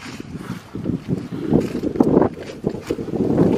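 Strong wind buffets the microphone at an outdoor cemetery in Cumberland, Rhode Island, a continuous low rumbling roar with repeated gusts swelling and fading, loud and close throughout.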